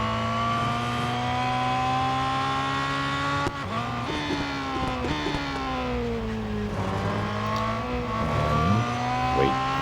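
A Ferrari GT race car in Real Racing 3 holds a loud, steady, harmonic engine drone throughout, with engine pitch falling under braking and rising again through gear changes and acceleration.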